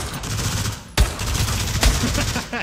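Video game gunfire rattles in rapid bursts, with two sharp loud shots standing out over continuous automatic fire, close and dense throughout.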